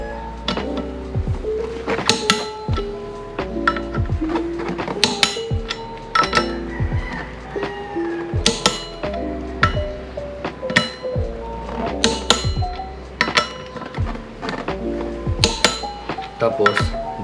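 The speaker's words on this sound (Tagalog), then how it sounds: "So yeah, we've torqued the bolts on." A torque wrench tightens the rear sprocket bolts on a motorcycle during a chain and sprocket replacement, giving repeated sharp metallic clicks and clinks at an uneven rhythm, close and fairly loud, with some talking mixed in.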